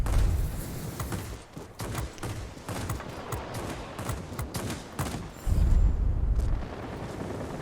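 Rapid bursts of aircraft cannon fire from the video game World of Warplanes, an XP-58, a fast crackling stream of shots with a heavier boom partway through.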